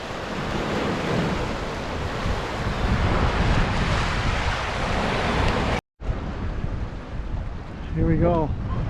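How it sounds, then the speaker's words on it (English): Strong wind roars and buffets the microphone over surging surf at a lakeside port, briefly cutting out, then a voice speaks near the end over the gusts. "It's still pretty windy."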